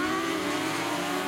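F600 race cars roar past during a Rosebowl race on a circuit, producing a brief, loud, dense engine drone with no voices.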